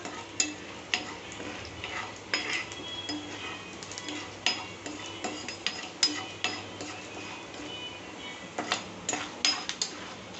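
Chana dal and urad dal fry in oil in a pan for lemon rice, giving a low continuous sizzle with frequent clinks and scrapes of a stirring spoon against the pan.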